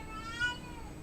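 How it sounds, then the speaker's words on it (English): A domestic cat lets out one unhappy, drawn-out meow, close and clear, with a rising and falling whine over a quiet room background. "Cat's having a proper go."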